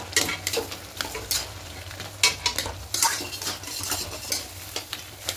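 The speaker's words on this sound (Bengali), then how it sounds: "এবার একটু ঘেটে দেবো।" A spinach curry with fish head is stirred in a pan, with repeated scraping strokes of a utensil over a steady close sizzle.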